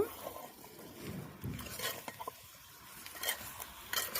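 Chicken pieces coated with chili powder, turmeric and salt are stirred in a pot, giving soft, intermittent scrapes and wet shuffling that stay fairly faint and close.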